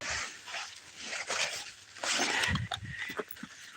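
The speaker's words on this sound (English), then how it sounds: "Oh, pretty dog." A dog gives short, breathy whimpers and yips in a noisy, hissy setting, at close range with no talk.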